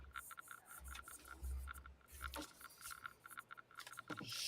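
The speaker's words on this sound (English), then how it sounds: "That needs a little more sanding." Sanding a tiny, delicate 3D printed part by hand produces quiet, repeated rasping and rubbing strokes in short bursts, close up, with a few small clinks in between.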